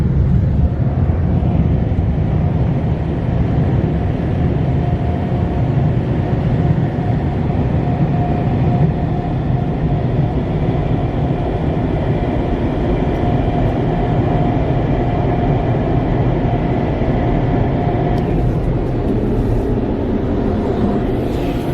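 PDQ LaserWash M5 touchless car wash air dryers blow with a loud, steady broadband roar that holds for the whole stretch, shifting slightly near the end as the airflow changes.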